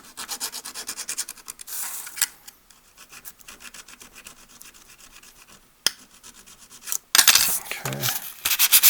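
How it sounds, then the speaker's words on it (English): Metal piece of a model railway curved turnout being sanded with sandpaper, bursts of rapid close scratchy rubbing strokes separated by quieter pauses and a few sharp clicks, louder toward the end; no speech. "now I'm gonna use a little bit of a sandpaper"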